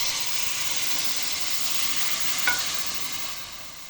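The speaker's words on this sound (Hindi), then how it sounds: "अब मैं इसमें ऐड करूँगी मेरे पास जो चिकन स्टॉक था।" Shredded chicken frying in a pot gives a steady, close hiss and sizzle as chicken stock is poured in for chicken corn soup, with one brief sharp clink midway and no talking.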